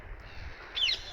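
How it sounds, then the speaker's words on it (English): A loud bird calls twice in quick succession at night in Croydon, sharp harsh notes rising over a quiet low background hum. "There's a really loud bird."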